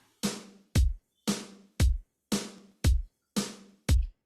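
A programmed drum beat alternates a Bluebird snare layered with an analog-circuit snare and deep kick-like hits, eight strikes in a steady, even pattern with crisp hi-hat-like sizzle, loud and dry with no talking.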